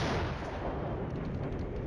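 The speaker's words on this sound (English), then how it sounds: "finally our artillery is going to get in the game" Artillery fire in the Flashpoint Campaigns Red Storm war game: a dense, continuous roar of booming blasts that fills the whole two seconds at steady loudness, with no voices.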